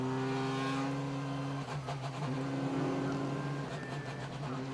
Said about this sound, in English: 29 cars heading round for the rolling start